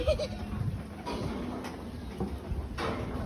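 Sheep bleating on a farm, a few rough calls rising out of a steady background of farmyard noise and rustling, moderately close but not loud.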